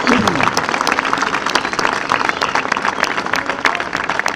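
Applause from a crowd at the Loures carnival burial event in 2017, honouring the carnival association; steady dense clapping fills the moment at moderate loudness, with some voices mixed in.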